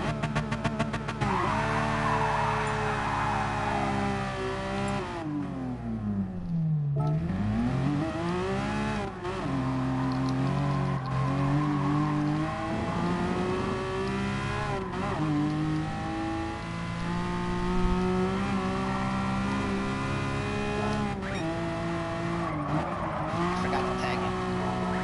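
Race car in a racing video game on the Nurburgring, engine revving hard and shifting through gears with tires squealing, a steady loud drone with pitch sweeps and dips, a voice talking over it.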